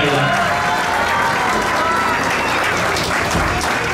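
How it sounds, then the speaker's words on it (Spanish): Guests at a quinceañera party applaud for a woman who helped organize the event, steady crowd clapping filling the room with voices mixed in. "vamos a dar un fuerte aplauso acá a Shelly"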